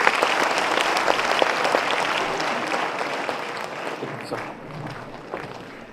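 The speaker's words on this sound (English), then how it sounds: "Ladies and gentlemen, huge round of applause for Ajay Bhai Piramal" An audience at a stage event bursts into loud, sustained applause that tapers off gradually, with faint voices under the clapping.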